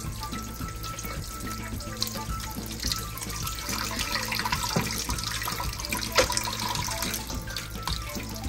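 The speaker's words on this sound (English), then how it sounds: "you wanna turn your pipe on, you know, some running water" A tap runs steadily into a kitchen sink while a lobster is cleaned under it, a continuous close hiss of running water with small splashes and no talk.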